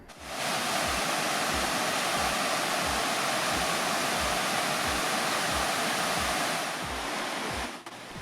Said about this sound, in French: La rivière est limpide et tumultueuse.